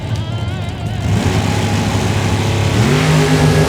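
A Corvette launching in a drag race at Lonestar Motorsports Park, its engine roaring loudly and climbing in pitch as it revs up and accelerates, close and sustained, with no voices over it.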